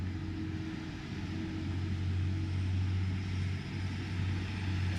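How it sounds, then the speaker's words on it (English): A heavy, noisy lorry rumbles continuously with a steady low engine drone, loud and close, holding constant without speech. "It's a very noisy lorry."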